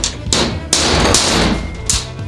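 Several sharp metal taps mark the centre points on two small steel plates cut from one sheet in a home metalworking workshop, a few loud strikes spaced unevenly with ringing between them, no voices.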